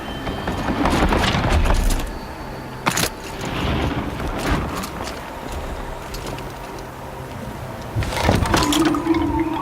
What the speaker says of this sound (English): Looks like it needs to fill up with water before I can cross.